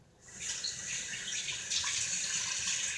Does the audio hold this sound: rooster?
no